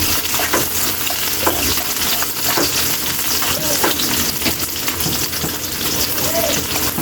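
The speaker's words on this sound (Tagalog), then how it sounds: "pwede natin ilagay yung bawang dahil mainit na kasi yung mantika natin" Garlic and ginger fry in hot oil with a loud, dense crackling sizzle that runs steadily throughout, dotted with sharp pops and spits.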